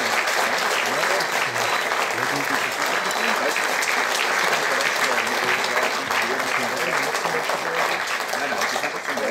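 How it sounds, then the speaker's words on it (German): Warm, steady applause from a studio audience on a celebrity cooking show as a wine guest is introduced, loud and continuous for several seconds, with voices faintly present under the clapping. "Einen herzlichen Applaus, da ist Silvana Egerter."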